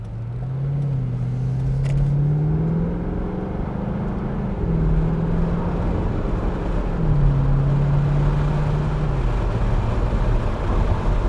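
A 2009 Chevrolet Corvette 3LT drives along with a steady, low engine drone that shifts pitch gently as it cruises, close and continuous inside the car.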